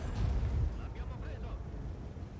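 An artillery shell explodes near a tank in World of Tanks, a deep rumbling boom that swells and then rolls off into a low, lingering roar.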